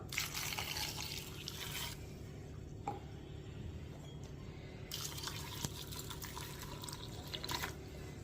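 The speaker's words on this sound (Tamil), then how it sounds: "இப்போ தண்ணி ஊற்றிடலாம்" Water running into a cooking pot while chicken kichadi for a baby is being made, a steady splashy pour that continues through most of the stretch with a few brief drips, fairly close and moderately loud.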